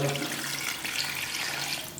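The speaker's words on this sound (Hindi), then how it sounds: "तो अब हम पानी डालने लगे हैं।" Water poured from a measured cup into a cooking pot of black pepper chicken, a steady close splashing and trickling stream that continues throughout.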